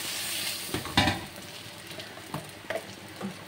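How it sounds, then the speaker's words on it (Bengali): Round potato slices frying with poppy seeds in a pan, a steady close sizzle with a few louder stirring scrapes and clicks partway through. "পোস্ত দিয়ে এটাকে ভাজা হবে"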